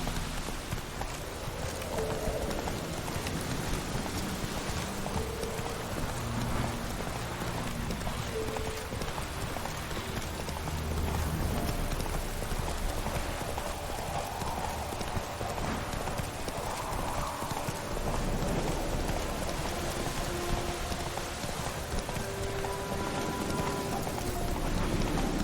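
Roach, a horse in The Witcher 3, gallops in steady rhythmic clip-clop hoofbeats through rain that patters continuously underneath, with an occasional faint whinny.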